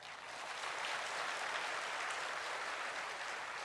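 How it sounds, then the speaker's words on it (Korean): Church congregation at a Sunday worship service gives a soft, continuous round of applause to welcome visiting guests, an even patter of many hands heard at some distance with no talk over it. "우리 박수로 환영해 주시기를 바랍니다"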